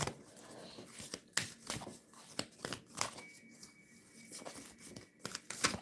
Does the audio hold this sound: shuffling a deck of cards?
yes